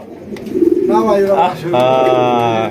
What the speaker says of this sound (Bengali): এটা ডাকতেছে নর কুতকুতে ডাকতেছে